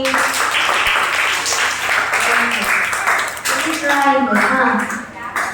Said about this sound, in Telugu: క్లాప్స్ చేయండి.